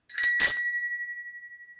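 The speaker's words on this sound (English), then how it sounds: "Nobody answered, and the doorbell rang again." A bright bell rings twice in quick succession, then its tone hangs and slowly fades into silence.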